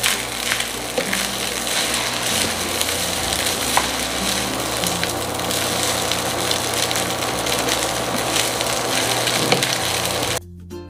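Spam egg fried rice with scrambled egg being stirred in a frying pan, a loud steady sizzle with scraping and tapping of the utensil throughout, ending abruptly.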